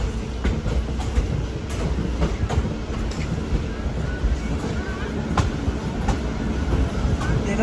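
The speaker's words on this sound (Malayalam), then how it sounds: "ഇവിടെ ഒരു ട്രെയിൻ ഉണ്ട്." A passenger train rolls through Shakur Basti railway station with a continuous loud rumble and rhythmic clatter of wheels, steady and close throughout.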